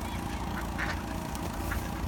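Ducks and other birds being fed by water, honking and quacking calls scattered over a steady outdoor background, a few calls standing out nearby.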